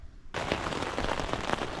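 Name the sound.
rain falling on tent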